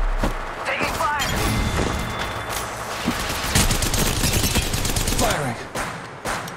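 Rapid gunfire in the video game Apex Legends on the Kings Canyon map: loud bursts and rattling shots with thuds, mixed with in-game voice callouts throughout.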